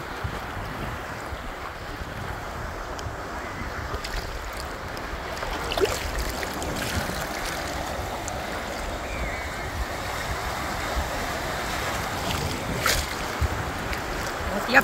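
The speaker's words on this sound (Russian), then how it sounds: "И вот как волны откатывают назад." Storm surf washes and drains back continuously with a hissing, rolling wash, mixed with gusty wind noise against the microphone.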